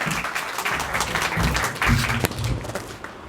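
Applause rises from an audience at a poetry event, a fairly dense patter of many hands with a few heavier low thumps and stray sounds mixed in, swelling midway before thinning toward the close.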